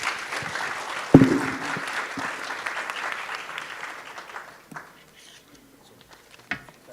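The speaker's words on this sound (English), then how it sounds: "Once again, let's give them a round of applause" Audience applause at the closing session of a maritime security dialogue, a dense round of clapping that tapers off after about four and a half seconds, leaving a few scattered claps and a sharp knock near the end.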